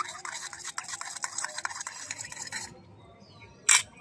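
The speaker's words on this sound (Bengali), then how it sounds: "এবার নেড়ে দেই।" A spoon scrapes and stirs spices around in a cooking pot, a close, gritty swishing that stops abruptly, followed by a brief sharp clink.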